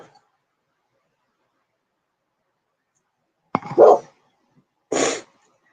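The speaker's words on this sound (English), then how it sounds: "Jeff, what is it, puppy?" A dog gives two short, sharp barks a second or so apart after a long stretch of silence.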